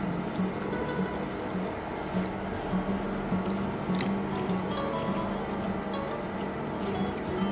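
Potatoes with garlic sautéing in olive oil in a pan without added water, giving a soft, steady, wet sizzle and squishy stirring that stays quiet and even throughout, with no clear talk.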